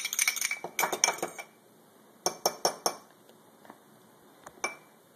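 Blueberry pie filling is stirred in a bowl, giving a quick cluster of clinking spoon-on-dish taps followed after a pause by a few sharper scattered clinks, close and without talk.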